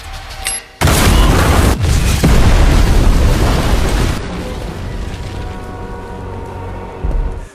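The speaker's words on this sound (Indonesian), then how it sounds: "sampai akhirnya bom itu meledak" A bomb explosion in the action film Ballerina, heard as a sudden, massive boom that roars loudly for several seconds, then fades into a lingering rumbling debris wash with a final thud.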